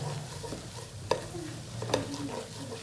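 Two spoons of white flour stirred and roasted in a pan as the base of a white sauce, a soft scraping and faint sizzle with two sharp spoon knocks against the pan, quiet and close.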